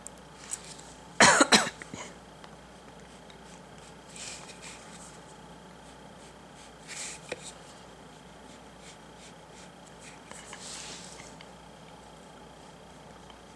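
A short burst of harsh coughing, two or three hacks close together, then a long stretch of quiet room noise with air conditioning on and faint scattered rustles.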